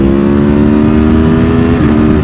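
An Aprilia Tuono V4 motorcycle with a race ECU flash and sprint filter pulls hard in fourth gear from about 6,000 rpm, a loud, close, steady engine roar climbing in pitch, with no talk over it.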